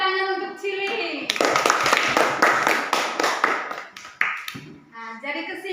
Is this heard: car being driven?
no